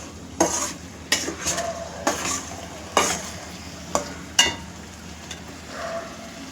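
A spoon stirs masala for spicy dry chicken in a cooking pot, six or seven sharp scraping knocks against the metal at a steady rhythm over a faint background sizzle.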